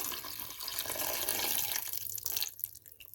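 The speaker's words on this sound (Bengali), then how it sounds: "পানি দিয়ে দিয়েছি" Water is poured into a potato-and-eggplant curry cooking in a wok, giving a steady, close rush of liquid for about two and a half seconds before it tapers off into quieter drips.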